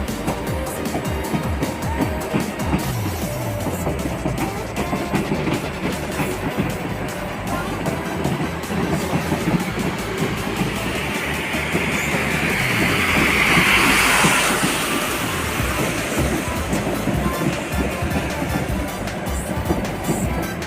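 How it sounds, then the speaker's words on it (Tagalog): A train passes close by in Pisa, Italy, its rolling clatter and rhythmic wheel beats sustained for about twenty seconds, swelling to a louder rush of wind and hiss near the middle. "magandang train na naman."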